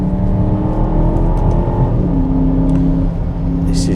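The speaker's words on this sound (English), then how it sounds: "So here's first gear, second gear, third gear, backfiring, really, really planted." Aston Martin DBX SUV accelerating hard, with a loud, close engine roar climbing in pitch, a shift partway through and a faint crackle near the end.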